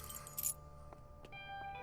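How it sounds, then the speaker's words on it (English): Keys jangle in a short metallic burst near the start, followed by a few faint clinks and taps against a quiet background hum. "Keys!"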